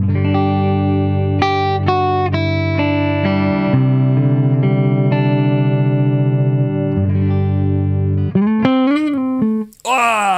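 A clean electric guitar tone from a Modulus Echo MP Custom FX plays a series of sustained single notes and chords, ringing and bright, with slide bends near the end and a brief voice at the close.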